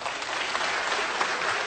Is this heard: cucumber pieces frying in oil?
no